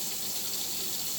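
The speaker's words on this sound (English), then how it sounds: "when you add your water to your pots" Water poured from a pitcher into cooking pots for chicken bog, a continuous broadband splashing rush that stays steady and fairly loud throughout, with no voices.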